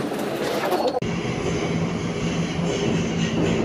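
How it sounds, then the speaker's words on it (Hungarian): A Hungarian passenger train rolls into the Déli station terminus in Budapest, heard as a low rumbling rail drone with faint wheel noise after an abrupt cut, steady and close. "This train terminates here."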